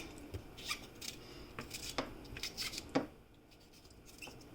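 Knife or scissors cutting seasonings such as scallion and thyme over chicken meat for Jamaican chicken and rice, a series of close, crisp snips at an irregular pace, followed by a quieter pause.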